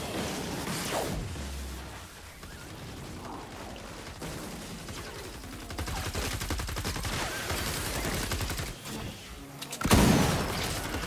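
Gunfire in Fortnite: Save The World comes as rapid repeated shots in bursts, with a louder boom near the end, over continuous game noise.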